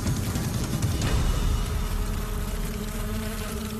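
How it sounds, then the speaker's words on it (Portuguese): Swarm of honeybees mobbing a hornet at the hive, a dense continuous buzzing drone, loud and close, with no voices. "Grupos de abelhas atacam a vespa e bloqueiam os orifícios de respiração em seu abdômen."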